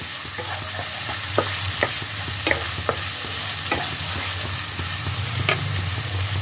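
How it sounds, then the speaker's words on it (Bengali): Chopped onions fry in oil in a pan, a steady low sizzle broken by repeated clicks and scrapes of a spatula stirring close by. "এবার পেঁয়াজটাকে ভালোভাবে তেলের মধ্যে ভাজতে হবে।"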